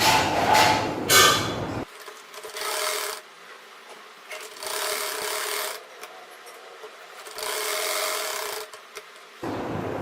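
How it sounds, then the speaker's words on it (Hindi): A sewing machine stitching a neck piece onto a kameez shirt, with several bursts of rapid whirring stitching separated by short pauses, close and moderately loud. "अब मैं इसको सिलाई लगाऊंगी"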